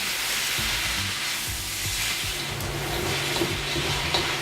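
Onions caramelize in a pan with a continuous close sizzle, while the spoon gives occasional soft scraping stirs under the steady frying hiss.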